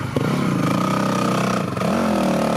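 Dual sport dirt bike, a Honda CRF450 or Yamaha WR250 conversion, climbing rocks at Kane Creek near Moab, its engine revving steadily and then shifting pitch, with clatter from the ride, close and loud.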